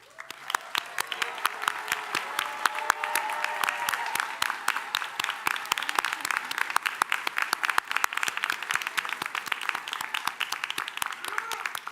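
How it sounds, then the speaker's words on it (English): Sustained applause from a large crowd at a graduation commencement ceremony, dense clapping that holds steady throughout and swells slightly toward the end. "A final round of applause."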